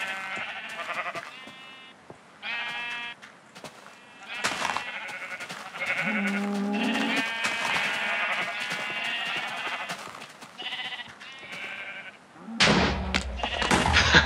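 Sheep in Minecraft bleat over and over, a crowded flock of overlapping, close, fairly loud baas, with a heavy rumbling burst near the end.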